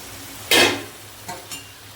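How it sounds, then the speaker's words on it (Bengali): Snake gourd (chichinga) frying in a pan is stirred: one loud scraping sweep followed by two shorter, softer strokes, over a low steady sizzle with no voices. "ঢাকাটা খুলে ভালো করে নাড়িয়ে নেব"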